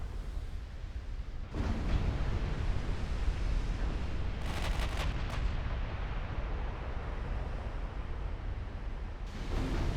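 Naval gunfire striking a target ship in the warship game Ultimate Admiral Dreadnoughts, a continuous heavy roar of shell hits with a burst of sharp, bright crackling impacts midway and a fresh surge near the end.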